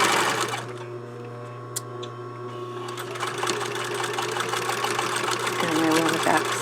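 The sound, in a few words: sewing machine back stitching a blouse collar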